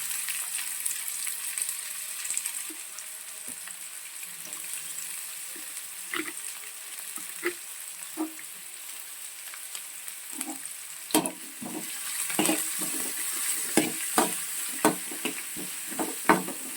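Chopped onions fry lightly in a pan for hotel-style Schezwan fried rice: a continuous soft sizzle with scattered sharp clicks and scrapes from stirring that grow louder toward the end.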